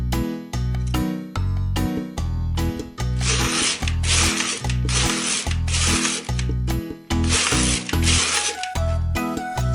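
A knitting machine carriage is pushed back and forth across the needle bed knitting plain-stitch rows in spare thread, giving repeated loud mechanical rattling sweeps with clicks between passes, close and without talk.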